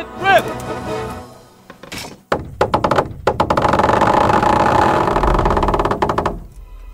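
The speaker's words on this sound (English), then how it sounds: "That was just the first shot. The trebuchet has to be calibrated." A trebuchet in the video game Kingdom Come: Deliverance releases its shot with a series of heavy wooden thunks and a long rumbling crash, preceded and followed by voices talking.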